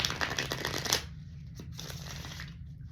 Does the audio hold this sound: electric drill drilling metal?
no